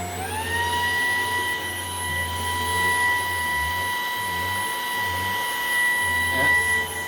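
A Maircle S3 Pro vacuum cleans a dog bed, whining loud and steady throughout at medium power, its pitch rising as it spins up at the start, with brief dips as the nozzle moves over the fabric.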